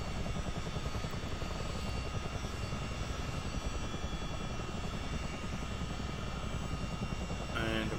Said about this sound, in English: You can see both engines are up, temperatures are balancing, everything is coming up.